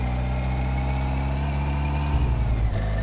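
A car with a bad, low-engaging clutch is cranked and started in My Summer Car, its engine droning steadily with low rumbling tones before the revs shift near the end, loud and close with no speech.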